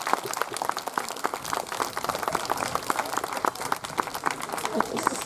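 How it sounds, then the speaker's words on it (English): A school audience claps for a visiting ambassador at a 50th anniversary event, a crowd of hands in brisk, uneven applause sustained throughout, with voices talking over it. "Can we give the ambassador a big clap, everybody?"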